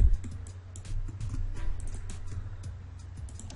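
Keystrokes tap on a computer keyboard during Autodesk Maya 2014 character modeling work, a quick run of soft close clicks over a low hum, with no talking.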